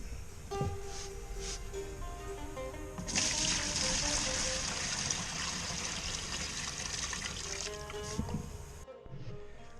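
Water is poured steadily into a container to start a tadelakt plaster mix, a continuous close pour lasting several seconds over faint background music.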